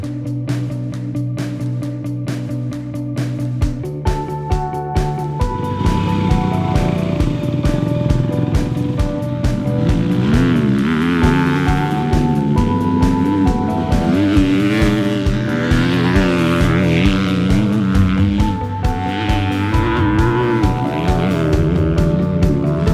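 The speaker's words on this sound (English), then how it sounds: "we are at Fox Raceway riding the 2020 Honda CRF250R" A 2020 Honda CRF250R dirt bike rips around the Fox Raceway motocross track, its engine revving up and down through the gears with rising and falling pitch, loud and close, with brief throttle chops between pulls.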